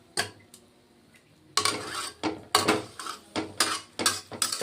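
A lid set onto a cooking pot of pea-shoot greens (matar shaak) on the stove, heard as close metallic clanks and clatters, a few sharp knocks followed by a quick run of rattles, with no voices.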